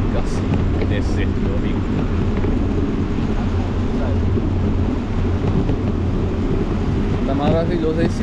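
Wind gusts across the microphone at night on the Boa Viagem seafront in Recife, a constant low roar and buffeting over faint background traffic and distant voices, loud and steady throughout.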